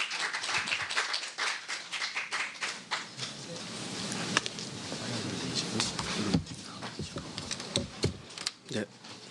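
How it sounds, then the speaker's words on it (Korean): Scattered clapping from an audience at a Jeju forum on healing and tourism, welcoming the next speaker; sparse, uneven claps over steady room murmur. "큰 박수로 모시도록 하겠습니다"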